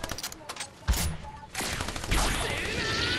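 Gunfire from a video game shooter rings out in a few sharp bursts, one loud blast near the start then denser shots and noisy game action, with people talking over it.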